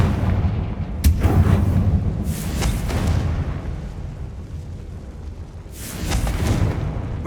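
A Confringo explosive spell blast in the game Hogwarts Legacy: a sharp crack followed by deep rumbling booms, with a second burst near the end, loud and without talk.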